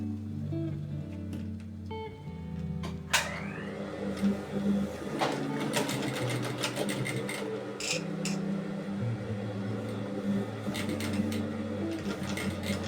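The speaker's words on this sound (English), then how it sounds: "I top stitch using a 1/8 of an inch seam allowance" A sewing machine topstitching a cellphone bag with an eighth-inch seam allowance, a steady mechanical whir with rhythmic clicking stitches and brief pauses, close up and without speech.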